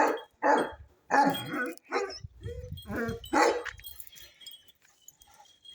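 Dog barking close by in a string of sharp, loud barks with short pauses between them, some yelping, with no other sound over it.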